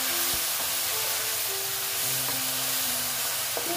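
Brinjal frying in a pan gives a steady, loud sizzle throughout, with occasional soft stirring scrapes as the pieces are turned.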